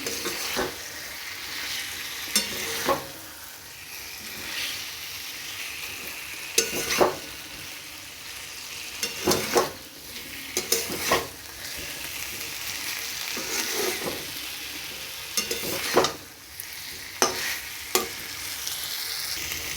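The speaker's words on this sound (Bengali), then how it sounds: "ডিম আলুগুলোকে অ্যাড করে দিলাম আমি কষা করছি ডিমের কষা" Eggs and potatoes stir-fried in spiced masala in a pan for Bengali egg kosha, a steady close sizzle broken by repeated scraping stirs of a spatula throughout, with no talking.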